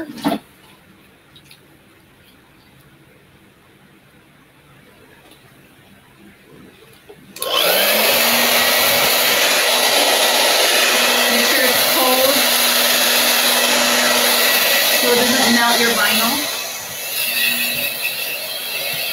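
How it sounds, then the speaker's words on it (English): After several seconds of quiet, a hair dryer switches on, drying a wooden sign, and blows loudly and steadily, its whirring hum continuing to the end with a slight dip near the close. "with my blow dryer."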